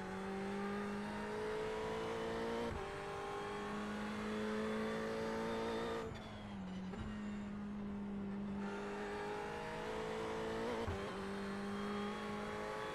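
A race car in the iRacing simulator holds a steady engine drone that steps through gear changes, dips briefly under braking and then climbs again. It stays loud and close throughout, with no talking.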